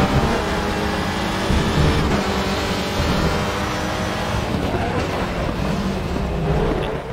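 Touring race cars in the WTCR series at Portimao roar along the straight, one slipstreaming to overtake, with loud sustained engine noise throughout and no talking over it.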